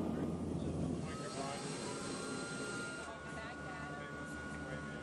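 Search aircraft engine droning steadily on a flight near the Andaman Islands off the Malay Peninsula, a constant cabin-level roar throughout with no speech audible.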